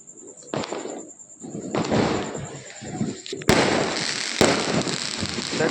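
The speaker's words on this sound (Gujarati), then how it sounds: "કેવા ફટાકડા ફૂટે છે અંજુબેન" Diwali firecrackers pop and bang repeatedly, a few sharp near blasts standing out over a dense crackling rumble, while a high steady tone hangs above and voices murmur faintly beneath.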